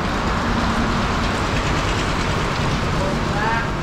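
Rain falls on a roof at a construction site for a resort project where corrugated metal sheets and PVC panels are stored, making a loud, steady, rumbling patter that holds constant throughout.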